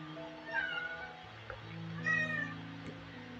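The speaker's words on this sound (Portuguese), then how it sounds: "até o meu gato tá miando ali" A house cat meows twice nearby, each call a rising, drawn-out cry, over a steady low background hum in an indoor room during a guided meditation pause.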